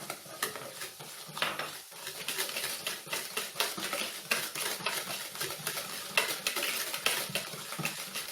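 Cake batter is mixed briskly in a bowl while oil goes in, giving rapid rhythmic scraping and tapping strokes of a utensil, close and continuous, with no talk.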